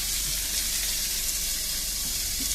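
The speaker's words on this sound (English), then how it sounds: "saute those up until they're nice and caramelized" Ingredients sauté in oil in a pot, giving a steady, even hiss of frying with no talk.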